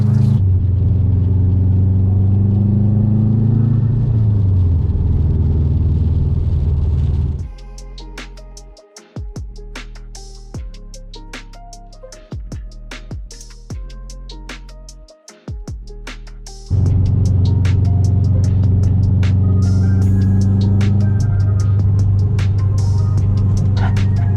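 Steady low engine rumble of a Subaru STI on Raceland coilovers cruising on the road, with a quieter stretch in the middle where clicks and knocks come through, then the drone returns.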